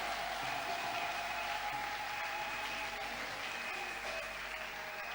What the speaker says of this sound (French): Acclamez pour le Saint-Esprit